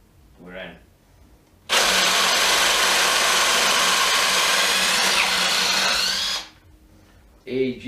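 A power tool whirs loudly and steadily for about five seconds as impact drivers back out long 6x180 mm screws, including a RIDGID and an AEG BSS180P hydraulic brushless oil-pulse driver, with brief voices before and after.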